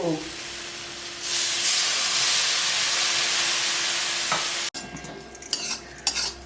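A quick splash of water hits a hot pan of poha and erupts into a loud, sustained steamy hiss, followed by scraping stirs as it dies down.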